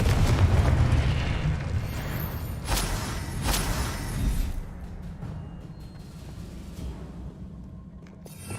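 A Confringo blasting spell bursts in Hogwarts Legacy with a loud, deep rumbling blast and a couple of sharp cracks, then fades over several seconds into a low lingering roar.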